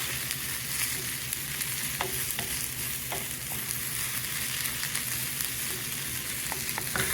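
Onion frying in a pot for spicy pumpkin soup gives a steady, close, even sizzle with a few faint clicks of stirring scattered through it. No voices.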